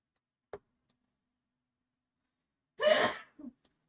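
A single loud sneeze bursts out of near silence, preceded by a soft tick and followed by a couple of small breathy sounds.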